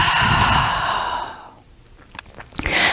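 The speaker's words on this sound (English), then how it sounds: "Open the mouth, exhale it out." A deep, breathy exhale through the open mouth during a guided breathing exercise, loud and close for about a second and a half, then fading into near silence before a few faint rustles and a short breath at the end.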